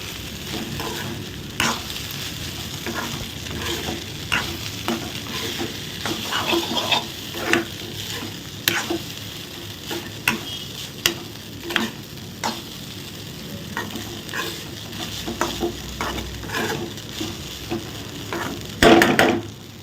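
Basmati rice being stirred in a pan for paneer fried rice, with repeated scraping and clinking strokes of the spoon against the pan over a soft sizzle, the knocks irregular and close, growing louder near the end.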